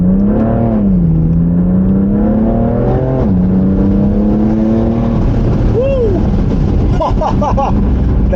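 BMW M3 F80 engine revving hard through paddle-shift changes, pitch sweeping up and down, then a sharp downshift blip with crackling pops, close and loud inside the car while someone talks excitedly.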